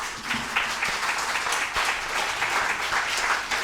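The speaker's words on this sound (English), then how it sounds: "Please give them a round of applause." An audience at a panel discussion on Thai politics applauds the three panelists, a steady ripple of many hands clapping at moderate distance, continuing without pause.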